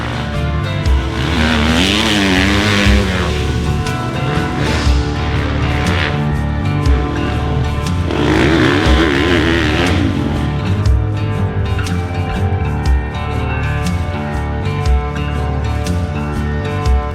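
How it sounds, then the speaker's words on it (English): A 2023 GASGAS EX350F four-stroke 350cc dirt bike is ridden off-road, its loud engine revving and rising in pitch through repeated acceleration swells, continuous and close. "Today we're getting our first chance to ride the 2023 GASGAS"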